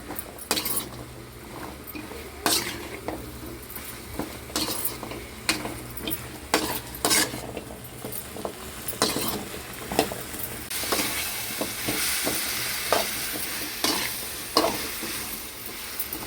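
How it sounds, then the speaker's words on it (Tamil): Jackfruit seeds and eggplant sizzle steadily in hot oil while a utensil stirs and clinks against the pan, close and continuous, with no voices. "கத்திரிக்காயும் பலாக்கொட்டையும் நல்லா வந்து வதங்கட்டும். அது வரைக்கும் நல்லா வதக்கி விட்டுக்கலாம்."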